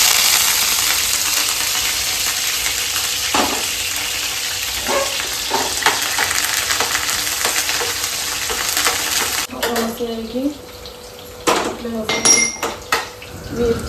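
Green chillies frying in a pan for a sabudana dish sizzle steadily as a spatula stirs them, then metal utensils clank and scrape sharply against the pan in bursts.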